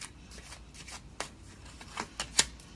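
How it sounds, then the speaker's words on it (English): Tarot cards being shuffled in quick riffling bursts, soft papery flicks ending in a sharper snap, close and fairly quiet with no talking. "I gotta shuffle this a little bit more."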